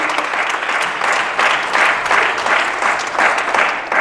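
A church congregation applauding at a Spanish-language service, a loud, sustained wash of many hands clapping that swells in waves and continues steadily from start to finish.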